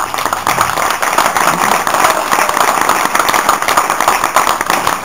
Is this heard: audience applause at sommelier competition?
yes